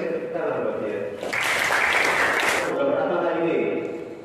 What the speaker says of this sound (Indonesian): Kasih tepuk tangan buat dia.